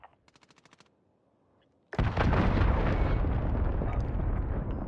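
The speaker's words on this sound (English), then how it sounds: "Enemy cruise missile incoming!" Cruise missile strike in Call of Duty: Modern Warfare: a few faint, quick clicks and beeps, then a sudden massive explosion that bursts in loud and close and rumbles on without letting up to the end.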